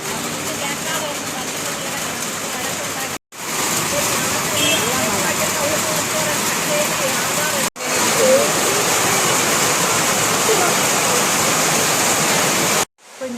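Steady, loud rain roars without a break, a dense hiss of water pouring down, interrupted only by a couple of brief cuts.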